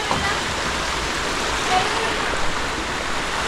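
The Baba Dhansar waterfall and its flowing water in heavy rain make a loud, continuous broadband roar that stays steady throughout.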